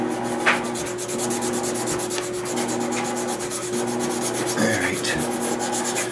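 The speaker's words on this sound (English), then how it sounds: "I'm going to actually sand all the neck anyway and refinish it" A bass guitar neck being hand-sanded with 220 grit sandpaper during refinishing, a steady close scratchy rubbing that continues without a break, with a faint low hum underneath.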